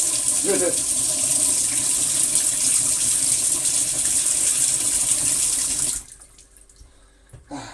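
Water pours steadily into the recovery bin of a Philips Triathlon 1300 carpet shampooer, a loud continuous gushing rush for about six seconds before cutting off abruptly, leaving near silence with a faint knock at the end.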